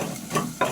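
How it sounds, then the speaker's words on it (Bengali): Onions sizzle in mustard oil, a brief close hiss of frying with a soft stir near the end. "আমি হালকা করে পেঁয়াজগুলো লাল লাল ভেজে নেব।"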